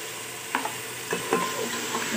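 Lotus root frying in a pan while being stirred, giving a steady background sizzle broken by several distinct scraping strokes of the spoon against the pan, with no voices.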